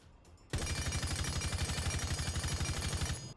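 An M762 assault rifle with a compensator, Zofia's weapon in Rainbow Six Siege, fires a sustained full-auto stream of about three seconds at close range, a loud rapid even rhythm with no voices, ending sharply.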